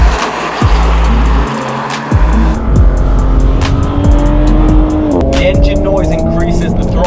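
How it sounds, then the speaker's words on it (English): A 2018 Audi S5 Sportback engine accelerating, its note climbing steadily in pitch through a gear with a brief dip at a shift, loud and close over road rumble, with a voice talking in the background. "The engine noise increases"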